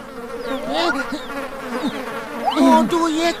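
Cartoon bees buzz in a steady swarming drone with rising and falling whines, loud and close, continuing through the whole stretch alongside brief squeaky cartoon vocal sounds.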